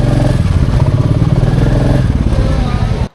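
A motorcycle engine runs loud and close on a flooded road, a steady throbbing rumble with some clatter that holds for about three seconds and then cuts off abruptly.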